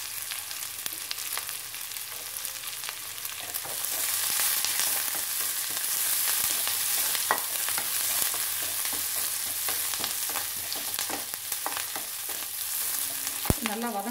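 Curry leaves sizzle in hot oil with a constant, nearby crackle, punctuated by frequent stirring clicks and a few sharper knocks from a utensil.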